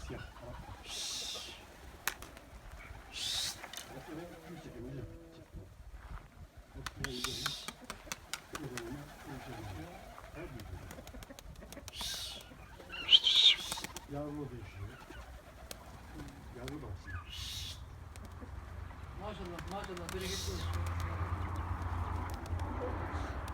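Soft pigeon coos repeat at intervals close by in a pigeon coop, over a faint background murmur that swells toward the end.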